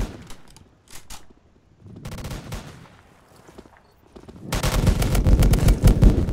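Semi-automatic gun firing in the video game Polygun, bursts of sharp shots separated by pauses, then a louder, denser stretch of rapid fire toward the end.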